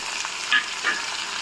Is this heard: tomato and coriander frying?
yes